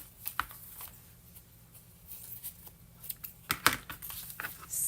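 Scissors snip a paper ruffle off one side of a Valentine craft piece, giving a handful of sharp, close cutting and crinkling sounds spread unevenly across a quiet room.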